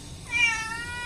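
A pet cat named Meowme lets out a single clear meow, close and moderately loud, with quiet room sound around it.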